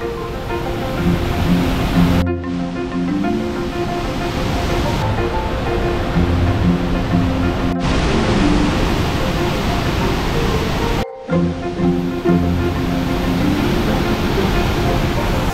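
Agua Azul waterfalls in Chiapas, a dense steady roar of falling water, loud and continuous, broken by a few sharp cuts.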